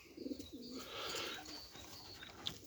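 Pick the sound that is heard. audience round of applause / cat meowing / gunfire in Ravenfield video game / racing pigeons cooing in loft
racing pigeons cooing in loft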